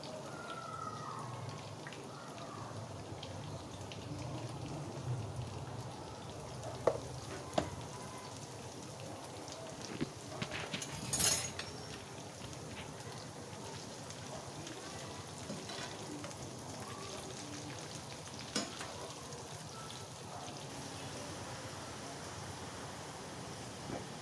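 Okra pieces sizzle and crackle in hot oil in a pan, a steady faint hiss with scattered pops and a few louder clinks and stirring sounds.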